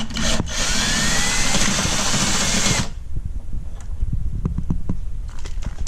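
A power tool with a socket backs out a screw on a C7 Corvette during a spoiler install, a close, loud whirring run of under three seconds, followed by quieter handling clicks and knocks.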